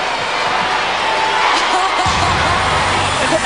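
Crowd at a wrestling match on an Australian TV special, cheering and shouting loudly and continuously, with a heavy thud-like swell near the midpoint.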